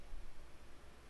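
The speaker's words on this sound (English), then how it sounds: "Now I will add a white noise. It's a random signal which excites all frequencies at equal foot." A steady broadband white-noise hiss mixed with a sine tone, constant and fairly loud throughout with no voices.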